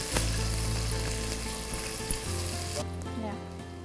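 Onion pieces hit hot oil with cardamom and star anise for a chicken semiya dish, giving a loud, steady sizzle throughout that drops off sharply toward the end while faint clinks continue.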